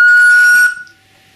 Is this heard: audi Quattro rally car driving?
no